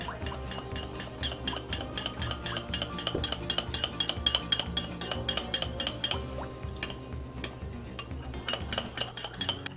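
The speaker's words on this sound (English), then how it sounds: "I'm going to give that a good stir." A spoon clinks and scrapes rhythmically against a bowl while a tangy mustard sauce for sticky ribs is stirred, producing quick repeated taps and light metallic ticks at a moderate, close level without talk.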